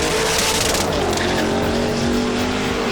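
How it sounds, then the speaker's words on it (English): A T-bucket hot rod and another race car roar loudly at full throttle, engines screaming past with a faint tire squeal over a dense, constant engine noise. "Now in this race, Joe Kyle takes on a T-bucket"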